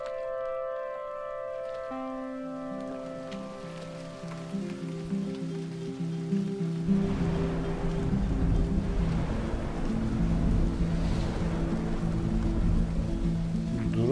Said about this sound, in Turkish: fırtınayı, yağmuru dinlemek istiyorum dedim